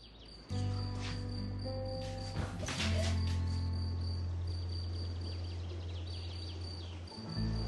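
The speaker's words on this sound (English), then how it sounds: "Do you hear a cricket?" A cricket chirps steadily in a quiet indoor setting, a thin repeating high trill running through the whole scene, joined by a low background hum and a few brief knocks and rustles.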